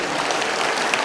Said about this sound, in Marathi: आपण हे सगळ्यांनी हात वर करून एकदा जोरदार टाळ्या वाजवून